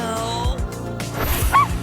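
A cartoon dog character gives a few short yipping barks, loud and close, over a steady background tone.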